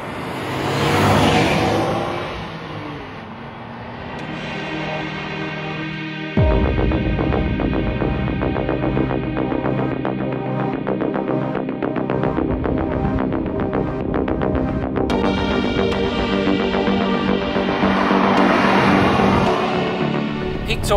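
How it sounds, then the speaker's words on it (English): Nissan Skyline GT-R R34 V-Spec II driving: a quiet start, then a loud engine note cuts in and rises and falls with revving, one sharp change midway and faint voices at times. "now we're going to get to driving it and learn the rest of the story"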